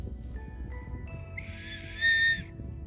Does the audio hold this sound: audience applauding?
no